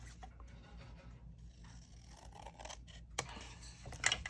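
Scissors cut paper in a few faint, close snips with soft rustling between them, ending with a sharper cut, all quiet and without talking.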